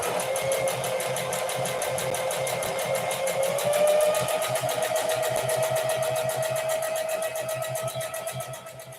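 A sewing machine stitches fabric with pins left in, running in a fast, even needle rhythm close by for several seconds before slowing toward the end.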